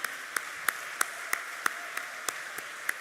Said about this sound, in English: A huge round of applause for Cami